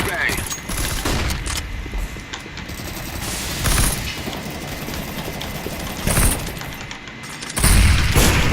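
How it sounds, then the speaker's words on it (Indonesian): Grenades, a flashbang and gunfire in the video game CS:GO pop and clatter in sharp bursts over constant mechanical game noise, with a few louder blasts near the end and voices talking through it. "Incendiary out. Smoke. Throwing flashbang."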